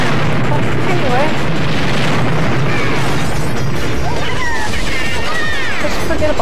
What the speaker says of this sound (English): it's a lot of bomb explosions